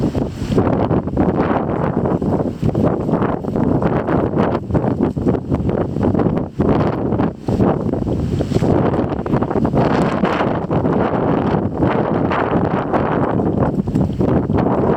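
Strong outdoor wind buffeting the microphone, a continuous loud rumbling roar that dominates throughout with no clear voices.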